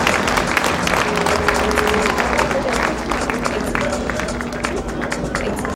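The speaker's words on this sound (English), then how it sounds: "can we celebrate them up with a round of applause?" Sustained, dense applause from a large audience at a company event honouring award recipients, steady clapping that stays loud throughout with crowd voices mixed in.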